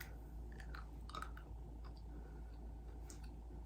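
Black jelly beans being chewed close to the microphone, soft wet mastication with small clicks and smacks over a low background hum, quiet and without talk.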